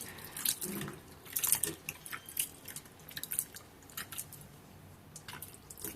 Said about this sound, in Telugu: సాల్ట్ వేసుకొని ఈ సాల్ట్ వాటర్లో మనం వీటిని బాగా కడుక్కోవాలి.